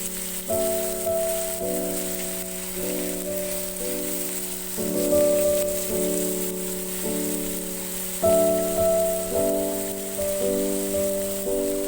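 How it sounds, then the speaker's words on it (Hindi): Chicken frying in oil in a tawa dish: a steady, rain-like hiss of sizzling runs throughout beneath prominent background music. "ऑयल में थोड़ा सा फ्राई करेंगे 2 चम्मचों की मदद से।"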